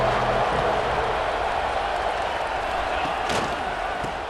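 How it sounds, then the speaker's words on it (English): A stadium crowd in the video game EA Sports College Football 26 roars in a dense, continuous wash of noise on third down, loud and sustained with no pauses. "Crowd getting this defense whipped up on 3rd down."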